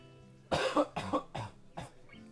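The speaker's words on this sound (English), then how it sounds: "I'm gonna cough" A person coughs four times in a quick burst, close and fairly loud, with a short pause before the last cough.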